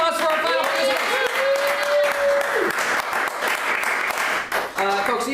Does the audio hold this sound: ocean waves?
no